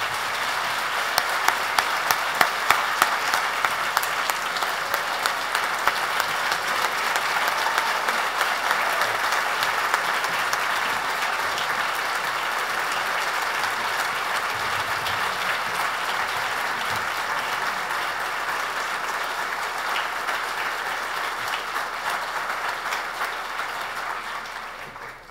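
Lecture audience applauding to welcome the speaker, a dense, steady wash of many hands clapping that holds loud for about twenty-five seconds before tapering off at the end.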